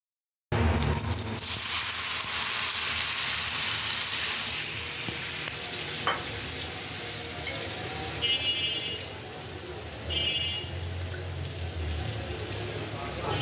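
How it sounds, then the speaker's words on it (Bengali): Shrimp fry crispy in hot oil, giving a loud, steady sizzle and crackle throughout with occasional bubbling swells, close up and continuous. "তেলের মধ্যে দিয়ে ক্রিস্পি করে ভেজে নিতে হবে"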